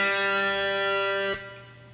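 A guitar sounds a bright, distorted sustained note from the six-note minor pentatonic blues scale, ringing steadily up close and then cut off sharply near the end.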